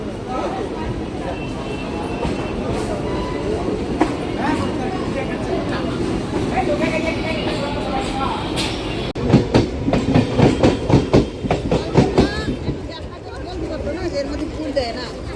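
A train rumbles steadily along the rails and breaks into loud, rhythmic clickety-clack partway through, with people chattering nearby over the noise.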